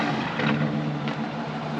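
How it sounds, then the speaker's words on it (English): A 1985 Oldsmobile Delta 88 Royale Brougham idles through its dual exhaust, heard from behind as a low, steady burbling rumble at moderate level with no talk. "benefiting sound from the dual exhaust"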